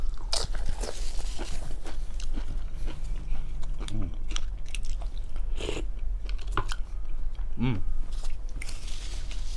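Crunchy cheesy tacos bitten and chewed up close, with sharp crunches at intervals between steady chewing, and faint background voices now and then.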